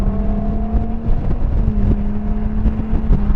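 A Ferrari Monza SP1 engine in sport mode runs loud and steady with a strong tonal hum, heard from inside the open cockpit while it accelerates through traffic.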